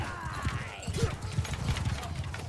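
Horse hooves clip-clop in a video game, a quick run of loud, close hoofbeats over a busy game soundscape, with a brief higher tone sounding partway through.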